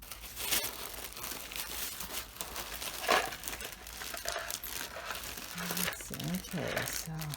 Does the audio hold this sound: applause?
no